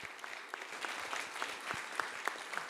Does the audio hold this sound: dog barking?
no